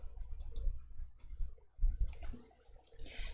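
A computer mouse clicking on a spreadsheet sheet tab, a few sharp, faint, close clicks in quick pairs over quiet room noise, no speech.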